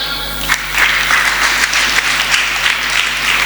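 A church congregation breaks into sustained applause, dense steady clapping from many hands that swells in and holds loudly throughout.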